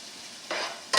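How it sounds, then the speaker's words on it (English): Olive oil hits a hot pan of mushrooms with sharp, close bursts of sizzling frying, the crackle swelling midway and flaring loudly again at the end, with no talk. "I added some more olive oil."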